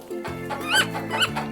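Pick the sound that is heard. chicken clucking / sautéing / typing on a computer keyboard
chicken clucking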